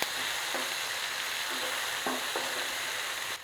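Tomatoes sauté in a pan for palak paneer, a continuous close sizzle broken by several soft stirring scrapes, with no one speaking.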